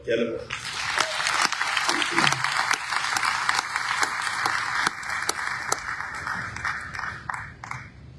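A large crowd applauds at the South African election results announcement, sustained clapping for about eight seconds with a few sharper individual claps standing out, fading slightly toward the end.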